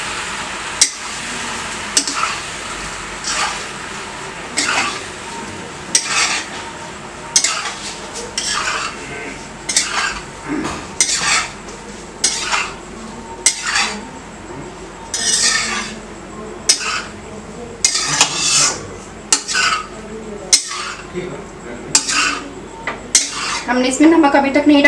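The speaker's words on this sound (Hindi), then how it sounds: "अब इसे अच्छे से मिक्स कर देना है।" A spoon repeatedly scrapes and clinks against a pan while macaroni pasta is stirred in, giving close, irregular metallic knocks and scraping strokes with faint sizzling beneath.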